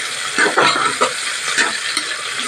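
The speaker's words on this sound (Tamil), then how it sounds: "கொஞ்சம் புதினா போட்டுடலாம். போட்டு நல்லா கூட வதக்கி விட்டுடலாம்" Mint leaves sautéing in a hot pan for soya biryani, a steady bright sizzle with a few louder stirring scrapes and rustles close by, no voices.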